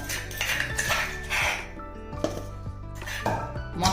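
A stone pestle grinds raw tamarind with salt and turmeric, giving repeated hard knocks and gritty scraping against stone in an uneven rhythm, close and fairly loud.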